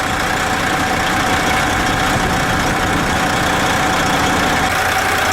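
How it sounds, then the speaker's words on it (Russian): A car engine idles just after being started, a close, steady mechanical drone with a faint knocking texture that runs unbroken with no voices. "заводим машинку"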